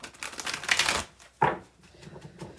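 Cards being shuffled by hand, two short riffling bursts, the first longer and busier, the second a quick snap, close and fairly loud with no talk.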